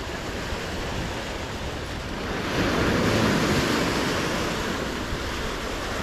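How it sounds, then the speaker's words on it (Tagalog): Red Sea waves wash onto the shore in a continuous broadband surf hiss, swelling louder midway, with wind buffeting the microphone. "Umaalon sa dalampasigan."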